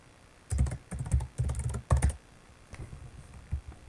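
Typing on a computer keyboard while entering watermark text, a few close, crisp bursts of rapid key clicks separated by short pauses, then sparser taps.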